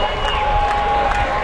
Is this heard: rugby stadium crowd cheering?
yes